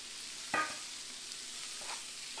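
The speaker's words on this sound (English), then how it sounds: "Now we're gonna add our lobster." Lobster drops into a hot pan of garlic and olive oil with one sharp clatter, then a faint, steady sizzle with a few small knocks.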